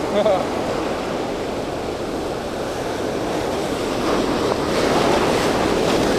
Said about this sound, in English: those waves, they're building up